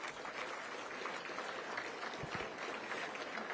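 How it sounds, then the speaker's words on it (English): An audience at a mayoral debate in Cincinnati applauds itself, producing a steady, faint wash of clapping from a distance with no voices heard. "Give yourselves a round of applause."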